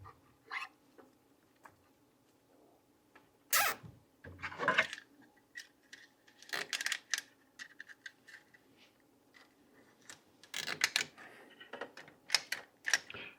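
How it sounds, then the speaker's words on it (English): An adjustable Harbor Freight zip tie gun ratchets black zip ties tight and snips them off, giving loud clicking and snapping bursts with quiet gaps between. "And it pulls the zip tie tight and it cuts it."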